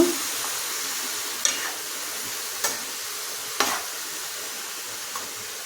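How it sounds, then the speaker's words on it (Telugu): Cabbage stir-fried in oil over medium heat: a constant hissing sizzle with four or five sharp scrapes of a spatula against the pan spaced about a second apart, close and steady, without speech. "చక్కగా ఇదంతా కూడా ఆయిల్లో కలిసిపోయేటట్టు కలపండి. కలిపేసి మీడియంలో పెట్టండి స్టవ్."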